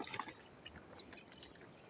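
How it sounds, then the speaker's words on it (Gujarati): Water poured from a pot splashes and trickles in short, faint bursts, quiet and close, with no one talking. "હવે 3 કળશે પાણી નાખી દો ને."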